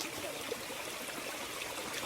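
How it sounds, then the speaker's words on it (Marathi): Fresh water flowing in a stream near a village during rain makes a steady, even rushing hiss that fills the whole moment, with no voices or breaks. "एवढं वाहतं पाणी आहे ना एकदम फ्रेश पाणी"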